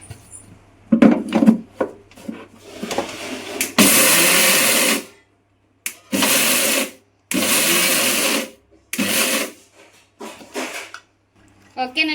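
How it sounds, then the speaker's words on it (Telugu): A mixer grinder coarsely grinds cooled, roasted poha in several loud bursts of a few seconds each, separated by short silences, with a person talking at the start and near the end. "ఇవి బరక బరకగా అయితే మిక్సీ పట్టుకోవాలి"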